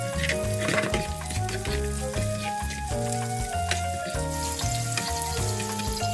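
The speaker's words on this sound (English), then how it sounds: "First, sauté the onions." Onions sauté in a small amount of cooking oil in a pan, a continuous crackling sizzle running beneath loud, steady background music with no one speaking.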